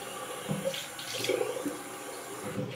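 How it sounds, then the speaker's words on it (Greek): A bathroom tap runs while water is splashed onto the face, a close steady stream with brief splashing bursts and cupped-hand sloshes, no talking. "Βάζω λίγο νεράκι στο πρόσωπό μου"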